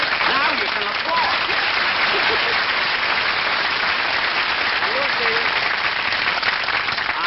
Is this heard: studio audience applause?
yes